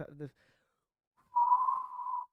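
A person whistles a steady mid-range tone to imitate the frequency band being discussed in a mix critique, one sustained note lasting about a second, preceded by a brief spoken word.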